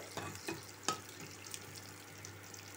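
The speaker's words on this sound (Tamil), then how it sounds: "வாழைக்காய் நல்லா ரோஸ்டட் ஆகுது" Raw plantain pieces roast in a pan with curry leaves, giving a low steady sizzle broken by a few close scraping stir strokes near the start, with no talking.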